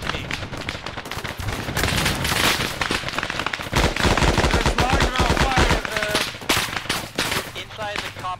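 Arma 3 gunfight at a compound entrance: dense bursts of automatic rifle and machine-gun fire crackle rapidly and loud, some shots close and others echoing farther off, with brief voices heard through the clatter.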